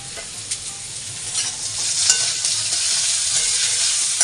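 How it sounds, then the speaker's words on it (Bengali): Pumpkin pieces frying in oil tempered with dried red chilli and black cumin, a steady close sizzle with occasional stirring scrapes and spatters running throughout, no voices. "এখানে একটা শুকনো লঙ্কা আর কালো জিরা ফোড়ন দিয়ে মিষ্টি কুমড়া ভাজা বসিয়েছি।"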